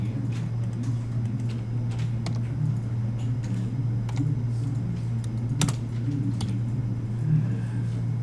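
Typing on a computer keyboard during drafting work, scattered soft key clicks over a constant low electrical hum.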